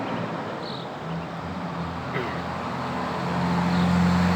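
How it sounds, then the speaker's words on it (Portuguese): Truck rolling past on a nearby road, a steady engine drone and tyre rumble that swells toward the end. "Deixa o caminhão passar."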